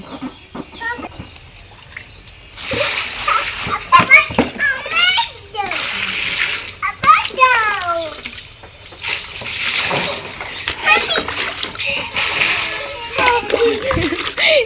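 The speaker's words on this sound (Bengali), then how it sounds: "আমি জল দিচ্ছি।" Water poured and splashing in a makeshift paddling pool for two little sisters' bath: repeated close splashes and sloshing, while an adult and young children talk and chatter throughout.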